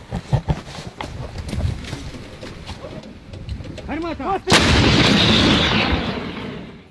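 Ukrainian artillery firing in a field position: scattered thumps and voices lead up to one sharp, loud blast followed by a long rumbling roar that slowly fades, with a bird calling just before.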